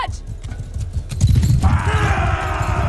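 Horse hooves clatter in Mount & Blade II: Bannerlord, a rapid, loud clip-clop of galloping close by with a brief whinny-like tone, layered over game ambience.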